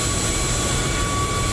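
A Ryanair Boeing 737 on final approach in Microsoft Flight Simulator 2020 drones with steady engine noise, a continuous broadband rush with a faint whine, even in loudness and alone without voices.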